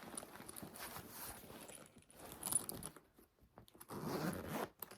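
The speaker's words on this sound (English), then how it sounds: "You have this zipper pocket here." A zipper on the pocket of a new Fossil purse is pulled open or closed in several quick, raspy strokes, close and fairly quiet, with a short pause between the runs and no talking.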